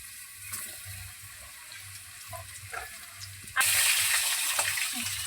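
Cut potatoes dropped into hot oil with dried red chilli and whole cumin, bringing a sudden loud, hissing sizzle midway that continues steadily after a quieter stretch of low kitchen noise, with no talking.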